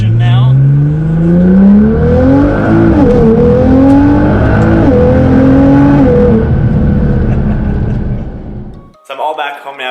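A Nissan R35 GT-R accelerates hard on the road, its engine note climbing loud and close through several gear changes before cutting off abruptly, with brief talking at the very end.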